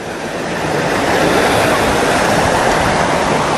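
A river rushes beneath a bridge on a mountain trail up Gunung Salak toward Kawah Ratu, a steady, loud broadband roar of flowing water filling the whole stretch with no voices.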